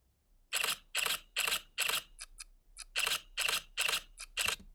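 AI-generated camera shutter clicks from ElevenLabs fire crisply in quick succession, about eight sharp snaps with a couple of softer ticks in between, close and dry with no voices.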